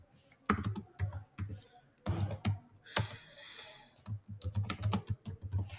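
Bursts of clicky keystrokes on a computer keyboard while Python code is typed, coming in irregular quick runs separated by short pauses, fairly close and moderately loud.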